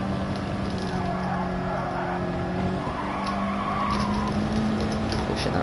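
A race car engine revs hard and holds a high drone in a racing video game at Brands Hatch, with tire squeal over the top and someone commentating underneath.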